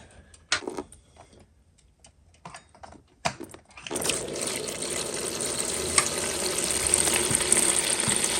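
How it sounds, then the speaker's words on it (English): Antifreeze and water draining from the radiator of a 2003 Yamaha R1 motorcycle with the cap off: a few sparse clicks and taps, then a steady broadband splashing rush of liquid that continues to the end without speech. "I'm going to take the cap off the radiator so we get better airflow and let this thing drain completely"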